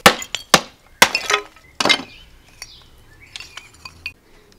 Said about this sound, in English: I'm going to break this up and use this as drainage stones